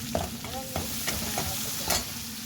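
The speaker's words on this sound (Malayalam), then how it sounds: "കരിപ്പിഞ്ച ഇടുക, വെളുത്തുള്ളി പേസ്റ്റ് ഇടുക, ഗ്രാമ്പ് പട്ട ഇടുക." Curry leaves, garlic paste, cloves and cinnamon sizzle in a hot pan for a beetroot biryani, with steady frying hiss broken by several sharp scraping stirs of a spoon against the metal, close and fairly loud.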